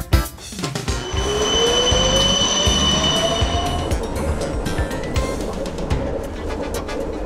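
A Melbourne tram rolls along rails toward Port Melbourne with a rumbling clatter and rising wheel squeal, a bell-like tone ringing briefly, while pigeons coo nearby.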